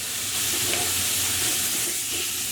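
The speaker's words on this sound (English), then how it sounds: "we just want to continue cooking our lamb until it's brown on all sides" Salted, peppered lamb browns in a pan with softened onions for Persian khoresht-e gheimeh, giving a brief, even, close-up sizzle with no speech.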